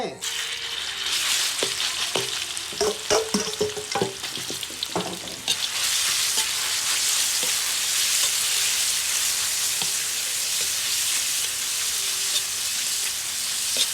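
Northern Thai pork larb stir-frying in a little hot oil, a steady loud sizzle with scraping stirs and clatter early on, then a dense continuous hiss of frying for the rest, no talking.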